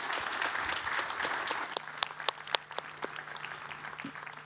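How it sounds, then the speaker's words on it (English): A conference audience applauds a panel at a forum on a stage, with dense, fairly distant clapping that builds, carries several sharper individual claps, and then thins out. "Ladies and gentlemen, a huge round of applause to this fantastic panel."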